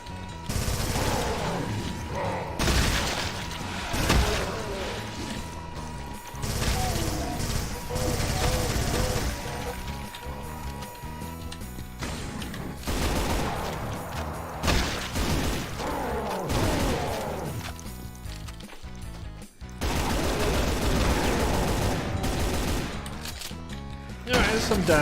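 Rapid chain gun fire in the video game Brutal Doom, dense bursts of shots with short pauses between them, under someone talking over the gameplay.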